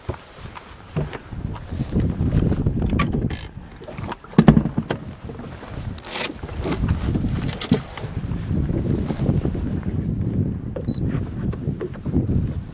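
Boat trolling motor running while easing into a new fishing spot, a steady low drone on the water through the whole stretch, with a few brief knocks and splashes near the middle.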